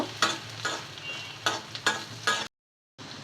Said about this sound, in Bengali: পেঁয়াজ কুচি দিয়ে দিচ্ছি দিয়ে দিচ্ছি রসুন কুচি কাঁচামরিচ ভালো করে ভেজে নেব